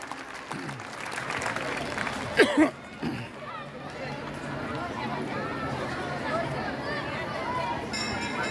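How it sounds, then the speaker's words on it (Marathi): A crowd claps continuously over a loudspeaker voice at a live public event, with general chatter from the audience filling the space. "यांच्यासाठी एकदा जोरदार टाळ्या वाजवायच्या आहेत"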